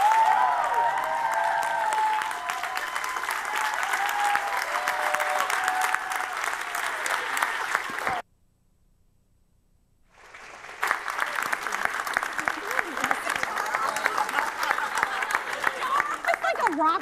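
An audience applauds loudly as Kellyanne Conway is welcomed on stage, sustained clapping and crowd noise that cuts out briefly midway, then resumes just as strongly.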